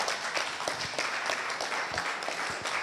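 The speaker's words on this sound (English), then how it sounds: "one of the violations of the 7 bad words gets applause every time?" Audience applause at a community forum on sulfide mining, steady dense clapping throughout at moderate level with no talk over it.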